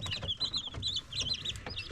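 High, busy peeping from several three- to four-day-old chicks, overlapping cheeps repeating throughout with low shuffling and clucks beneath, fairly close and steady.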